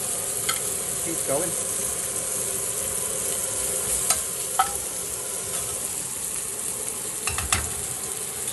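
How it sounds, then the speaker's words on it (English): Carbonara meat crisping in a kitchen pan, a steady soft sizzle with a few sharp clicks and taps of a utensil against the pan, and a brief voice near the start. "We need to get it nice and crispy and okay. We'll get it cooked up and nice and crispy."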